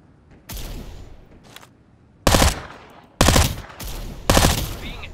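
Bursts of automatic gunfire in the game Farlight 84: four loud, close volleys of rapid shots, each lasting around half a second to a second, separated by short gaps.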